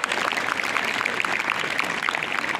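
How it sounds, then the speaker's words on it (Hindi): An audience at a school yoga demonstration applauds a difficult pose, giving steady, fairly faint clapping with a dense patter of many hands and no clear voices. "तालियां बजाइए"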